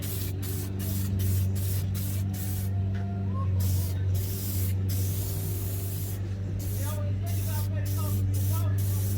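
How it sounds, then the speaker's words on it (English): Aerosol can sprays onto car carpet in a series of short hissing bursts and longer blasts, close and steady over a low engine-like hum. "spray my carpet"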